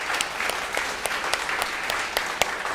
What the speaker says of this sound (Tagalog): Pwede ko ba marinig ang the best sa palakpak kay Jesus sa mga generous?